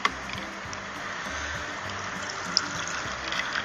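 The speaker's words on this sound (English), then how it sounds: "pour just a little bit of ice water in there" Ice water poured into a container of butter while making butter at home, heard as a steady, close liquid trickle lasting throughout, with a couple of faint clicks.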